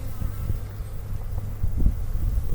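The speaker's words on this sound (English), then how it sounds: "I'm looking for bees. I don't want to crush a bee because it will sting me." Bees buzz around an opened beehive during an early-season inspection on a warm February day: a low, steady hum close to the microphone with some wind noise, and no talk.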